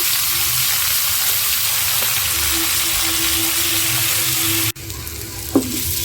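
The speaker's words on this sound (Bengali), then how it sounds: "এখন মাছ বেজে আজকে রান্না করবো কোয়া মাছ" Koi fish rubbed with turmeric and salt frying in hot oil, a steady loud close sizzle throughout, briefly broken by a clunk and then continuing slightly softer.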